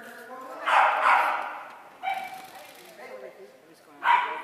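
A dog barks and yips in short bursts nearby, three separate outbursts with quieter whimpering between them, while people talk at a dog agility jumpers competition.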